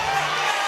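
Boxing fight-night crowd cheering and roaring for a fighter, a dense, loud wash of voices in a brief burst.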